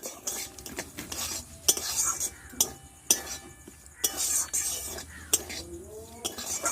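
Semolina dry-frying over low heat in a pan, stirred with a metal spoon that clinks and scrapes in sharp, irregular strokes over a faint background sizzle, close and distinct.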